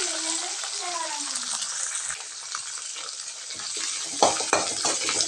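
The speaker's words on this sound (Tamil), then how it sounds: "இப்போ கட் பண்ணி வச்சுருக்கிற வெங்காயமும் கருவேப்பிலையும் போட்டுக்கலாம்." Chopped onions and curry leaves sizzle in hot oil with popped mustard seeds and cumin for a drumstick dish, a steady close frying hiss with a few stirring clinks near the end.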